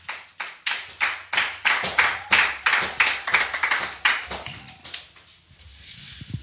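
A church congregation claps in unison to acclaim the Lord, a run of sharp, steady hand claps that loosen and fade near the end.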